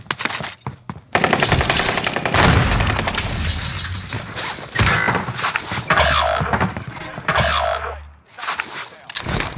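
Automatic gunfire in Warzone on Rebirth Island, with loud, close, rapid bursts of shots and heavy impacts that repeat throughout, while players talk over the action.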